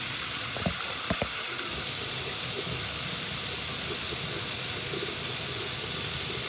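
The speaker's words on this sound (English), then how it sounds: "I'm going to start my water and get it to warm." Tap water runs steadily into a sink while warming up before a handwashing routine, a constant close hiss with a few faint clicks at the start.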